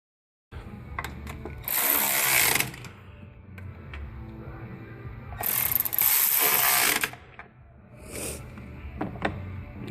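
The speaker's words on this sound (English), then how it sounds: "Get these bolts all kind of snug down back in their place." A hand ratchet snugging bolts back down by the fuel rail on a Toyota Sienna 3.3 liter engine, heard as two long bursts of fast, loud clicking plus a short third burst, with quiet mechanical handling between.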